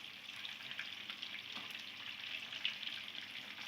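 Koftas frying in hot oil, a soft, steady sizzle with faint crackles and pops, fairly quiet and close, with no talking.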